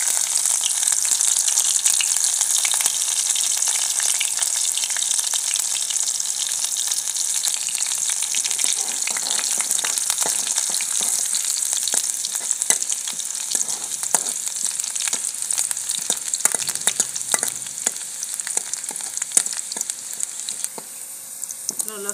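Garlic and green chilies frying in hot oil for a village-style dal, a steady bright sizzle that turns into busier crackling and spattering toward the end.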